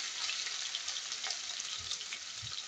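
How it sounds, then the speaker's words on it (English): Steady crackling sizzle of onions frying in a pan, continuous and close, with small pops and no talking. "I like it when it sizzles"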